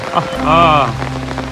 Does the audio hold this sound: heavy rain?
yes